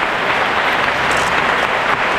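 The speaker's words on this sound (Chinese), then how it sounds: "大家为他们热烈鼓掌" Audience applause fills the hall at the close of a Taiwan national orchestra New Year concert, a dense steady wash of clapping held at even loudness with no voices.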